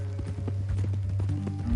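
Horse hooves clip-clopping in the Western video game Red Dead Redemption 2 as a rider travels with a captive tied onto a horse, steady rhythmic hoofbeats over a low droning hum, fairly close.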